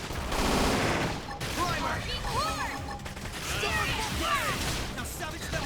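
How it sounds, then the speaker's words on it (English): Rapid gunfire and blaster bursts from a Xenoblade Chronicles X: Definitive Edition battle, dense and loud throughout with whooshing sweeps and chirping energy effects layered over the shots. "Now savage them with gunfire"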